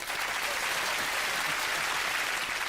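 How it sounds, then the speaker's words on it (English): A theatre audience at a live children's puppet show breaks into sustained, dense applause, many hands clapping together in a steady wash of sound that holds evenly from start to finish with no voices over it. "Give him a round of applause."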